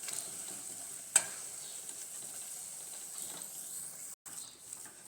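Potato tempering stirred in a hot pan gives a steady low sizzle and scraping, with one sharp clink of the spoon near the start.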